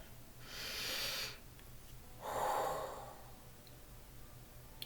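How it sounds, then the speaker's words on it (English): One slow deep breath, a long airy inhale followed by a pause and a fuller, lower exhale, close and quiet with no talking. "I'm going to take a deep breath."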